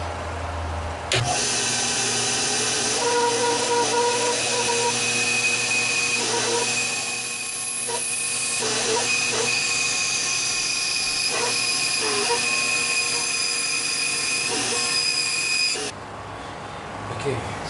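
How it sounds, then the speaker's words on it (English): Bandsaw cutting wood for a headboard, a loud steady whine with a sharp start and stop, holding for about fifteen seconds with slight dips as the blade works through the board. "To cut it, I'm gonna use the bandsaw."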